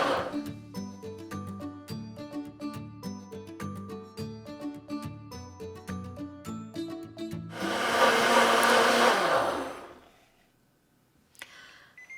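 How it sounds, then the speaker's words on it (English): Rhythmic tapping and ticking gives way to a loud, roaring whir of a high-speed blender pulverizing vegetables for green juice for a few seconds, then spinning down and stopping. "you can use any high-speed blender"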